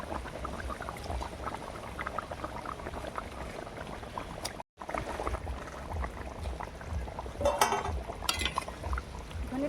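Katla fish with potatoes goes into a simmering Bengali fish curry, which bubbles steadily and close in the pot, with a brief gap of silence and a few small splashes and clinks near the end.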